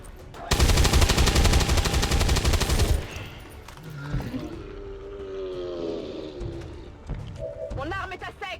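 Rapid automatic gunfire in the XCOM 2 video game, a loud sustained burst lasting a few seconds, followed by game sound effects and a voice talking.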